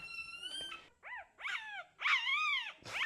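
Livestock guarding dog puppy crying while nursing, a series of high, wavering whimpers and yelps in short bursts, close and fairly quiet.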